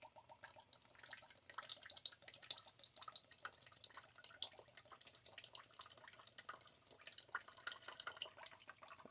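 Coconut water pours into a bowl in a home kitchen while green curry cod is prepared, a steady soft trickle with faint splashes throughout, quiet and close.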